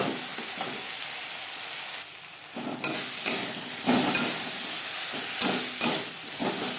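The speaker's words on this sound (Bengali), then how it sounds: "খুলকির সাহায্যে টমেটো ম্যাশ করে দেব" Tomatoes for a Bengali tangra fish curry pressed and mashed with a spatula in a frying pan, repeated scraping strokes close up over a steady sizzle.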